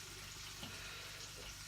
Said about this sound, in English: So I hear it sizzling up over here.